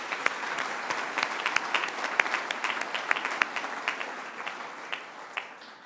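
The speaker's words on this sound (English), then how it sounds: "I think we should have a round of applause for the whole group." An audience applauds award recipients at an alumni award ceremony for a college, with steady, close clapping and individual sharp claps standing out from the crowd for several seconds.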